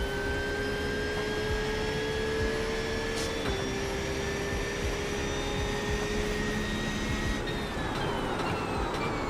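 Porsche 911 GT3 in the iRacing sim at the Nürburgring in rain, engine droning steadily with a sustained whine that steps down in pitch partway, tyre noise hissing underneath, loud and continuous throughout.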